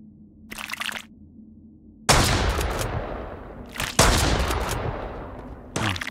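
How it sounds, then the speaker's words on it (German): Gunfire from the Mist Survival video game: three loud, sharp shots, each with a long ringing decay, spaced roughly two seconds apart after a quiet opening with faint background sounds. "ich verballer jetzt mal die Munition"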